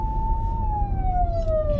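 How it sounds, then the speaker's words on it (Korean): A passing ambulance siren wails loud and steady as a single held tone, its pitch sliding gradually downward as it moves away, over low road rumble. "구급차는 비켜드려야죠"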